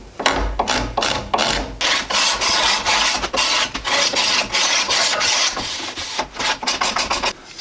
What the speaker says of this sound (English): So round these edges over here before I do any more bending.